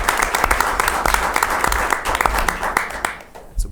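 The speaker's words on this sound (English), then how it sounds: "Yes, we can clap." Applause at a school committee meeting as a departing member is thanked, a room of people clapping loudly and unevenly for a few seconds before it thins out, with a few voices mixed in.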